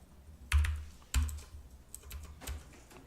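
Computer keyboard typing while values are entered in Adobe Illustrator CS6, a few sharp key taps and heavier Enter presses spaced irregularly, close and fairly loud with no voices.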